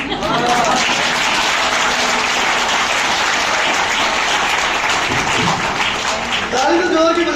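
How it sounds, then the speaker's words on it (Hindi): Loud, sustained audience clapping at a college event in Jaipur, steady and energetic throughout, with a voice coming in near the end. "ताली तो जोर की बजा दिया"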